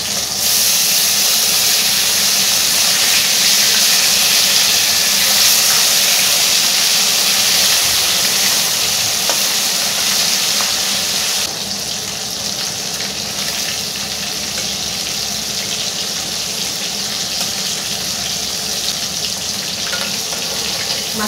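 Pasha fish sizzles in hot oil after being flipped, a steady, loud, close crackling hiss that drops a little in level midway and then continues evenly, with no voices.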